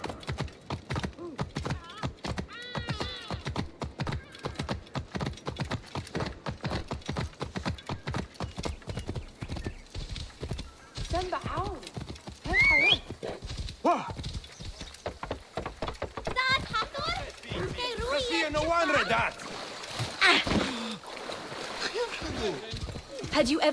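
Horse hooves clip-clop steadily at a gallop in Assassin's Creed Origins, with a brief whinny, continuous and fairly close, while people talk over the game sounds.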